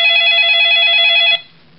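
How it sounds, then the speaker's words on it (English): A telephone rings once, a loud steady electronic trill lasting over a second before cutting off abruptly in an otherwise quiet room. "After a while, the phone rings."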